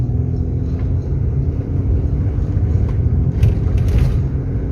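A first-generation Kia Carnival MPV with a 2500 cc engine accelerates, its loud, steady engine rumble and road noise filling the cabin without letup, no talking over it.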